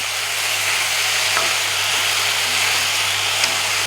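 Tomatoes and onions sautéing together for a Chettinad kara chutney, giving a loud, continuous close sizzle with steady hiss and no pauses.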